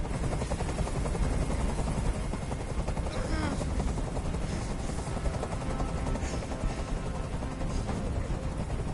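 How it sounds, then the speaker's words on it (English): Steady loud helicopter hovering in the video game Detroit: Become Human, a continuous whirring rotor drone filling the scene, with faint voices and other game sounds layered underneath. "I can't stand that noise anymore. Tell that helicopter to get out of here."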